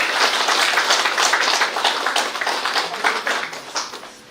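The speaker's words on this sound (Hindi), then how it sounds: "हम जोरदार तालियों से उनका स्वागत करते हैं।" A dense, loud round of applause from an audience welcoming guests at a Shivshakti program in Biratnagar, Nepal, many hands clapping together at a steady patter that tapers slightly toward the end.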